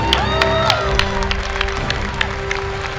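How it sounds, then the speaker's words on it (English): A crowd at a League of Legends fan exhibition event at SXSW applauds, a modest patter of clapping with a few scattered cheers, steady and moderately loud throughout. "I think they deserve a round of applause for coming up and volunteering for this"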